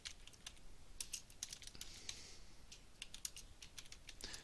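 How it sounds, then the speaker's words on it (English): Fingers type on a computer keyboard to enter text into a form. The keystrokes come as quick, irregular, faint clicks in short bursts, close to the listener. "I'm going to type my cardio goal in."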